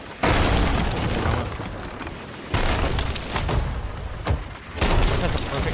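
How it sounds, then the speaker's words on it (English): Heavy booming cannon fire of chain shot in Sea of Thieves aboard a solo sloop, with several loud, rumbling blasts rolling one after another amid the crash of the sea battle. "That's a chain shot."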